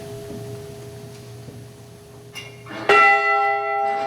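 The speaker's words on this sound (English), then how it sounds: "The bell is rung 30 times, once for each of the crew, the 30th for all mariners lost on the Great Lakes" A memorial bell for the Edmund Fitzgerald crew, rung near the Great Lakes, sounds two strikes after a quiet hum. The second strike is loud and close, ringing on with a long sustain.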